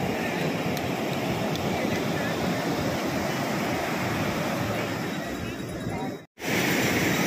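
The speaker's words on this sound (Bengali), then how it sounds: "এই দেখো ঢেউগুলো আসছে আর আছড়ে পড়ছে, কি ভালো লাগছে পাড়ে।" Sea waves breaking on a beach near a temple town, a continuous loud roar of surf mixed with heavy wind buffeting the microphone, steady throughout with a brief dropout near the end.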